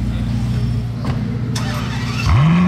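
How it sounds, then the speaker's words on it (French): A Ferrari SF90 Spider arrives on a street in Monaco with a low, steady engine drone, then a rising rev swells near the end. "il y a cette magnifique SF90 Spider qui vient d'arriver"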